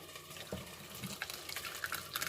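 Water from rehydrated Valley Food Storage freeze-dried chicken and peppers is drained, making a faint, continuous trickling and splashing pour close by.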